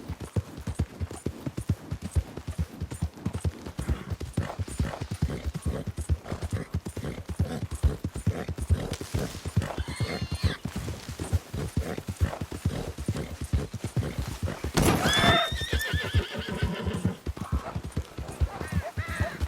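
A horse in Red Dead Redemption 2 gallops with a fast, steady clip-clop of hooves throughout, then lets out a clear whinny partway through, with the rhythmic hoofbeats continuing loud and close.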